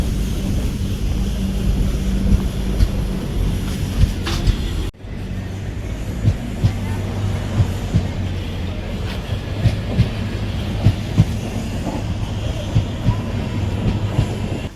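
A train rolls through Varkala railway station in Kerala with a steady loud rumble and repeated rhythmic clicks of the wheels, close by and continuous, broken by a brief dip near the middle.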